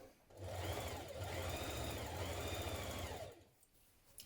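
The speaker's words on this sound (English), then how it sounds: "I'm going to stitch this in place now" A sewing machine stitches a jacket collar in one continuous burst of about three seconds, a steady whirring hum close up that stops abruptly, with no talking.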